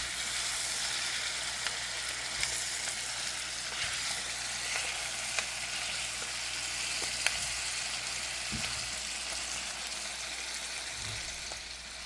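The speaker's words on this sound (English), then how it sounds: "And then we're going to mix it up, Mix everything together, guys." Chicken and curry ingredients for a Jamaican-style curry chicken sizzle and fry in a pot as they are stirred together, with a constant bright hiss and occasional soft scrapes and knocks of the spoon.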